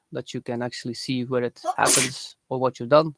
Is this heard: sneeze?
yes